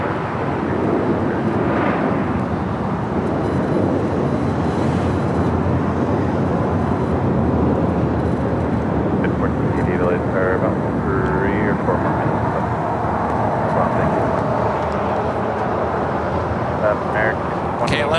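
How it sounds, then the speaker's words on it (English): An American Airlines Airbus A321neo takes off from runway 25 right at LAX, its engines a steady, broad roar that holds strong for the whole stretch. "The next takeoff is the flights American Airlines flight 1098 in the A321neo"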